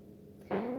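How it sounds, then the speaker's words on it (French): A brief, low baby fart, a soft rumble that swells suddenly into a short buzzy burst and ends abruptly. "Ça, c'était un pet"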